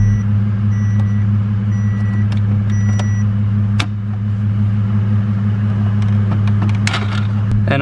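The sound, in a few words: Ford Falcon straight-pipe turbo car engine idling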